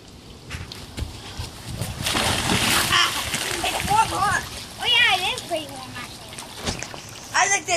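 A child jumps into a backyard swimming pool with a loud splash, followed by water sloshing, while kids shout and talk excitedly around it.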